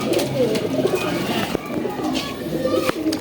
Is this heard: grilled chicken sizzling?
no